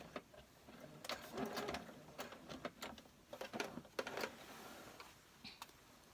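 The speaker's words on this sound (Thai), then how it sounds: "ตรงข้างๆเป้าเราก็จะเย็บซ้ำกันสองครั้งนะคะ" A sewing machine stitching silk trousers runs in short bursts of rapid mechanical ticking and whirring, stopping and starting several times at moderate volume, with no talking over it.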